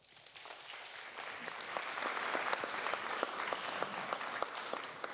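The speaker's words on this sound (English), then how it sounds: "Let's have another round of applause for all of them." An audience at a UK–China technology summit applauds, the clapping rising from a soft start into sustained, dense applause that stays steady to the end, with no voices over it.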